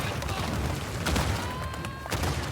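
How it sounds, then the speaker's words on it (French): Dense bursts of gunfire and explosions from Uncharted 4 on PS4, steady and loud, with a couple of sharper blasts standing out and French talk mixed in. "Tout explose d'un coup, là, comme par hasard."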